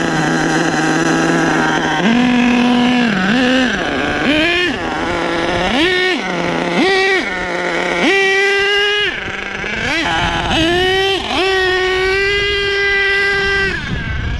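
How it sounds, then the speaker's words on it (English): HPI Savage XL K5.9 nitro RC truck running fast in first gear on race fuel in a parking lot, its loud screaming engine whine rising and falling in pitch continuously as it speeds past. "Savage XL is flying in this lot."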